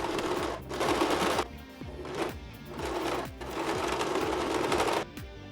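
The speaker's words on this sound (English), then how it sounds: "Now by feel, I will sew it in place so it doesn't move" A sewing machine stitching a cloth face mask, running in several short bursts of rapid, close mechanical chatter separated by brief pauses.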